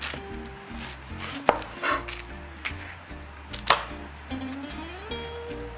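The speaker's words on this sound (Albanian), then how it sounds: "Do ta presim qepën shumë holl që mos të kuptohet." A knife finely chopping a red onion on a board in a home kitchen, steady quick taps with a few sharper knocks, close and fairly quiet, with a faint low hum underneath.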